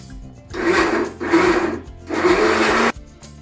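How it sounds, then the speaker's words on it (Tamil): A mixer grinder grinds a ragi mixture into paste in three loud, steady bursts of motor whir, each about a second long, with short quiet pauses between them. "அரைச்சி பேஸ்ட் ஆக்கிடலாம்ல"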